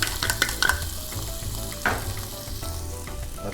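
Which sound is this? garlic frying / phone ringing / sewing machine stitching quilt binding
garlic frying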